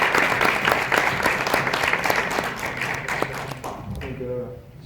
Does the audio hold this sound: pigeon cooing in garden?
no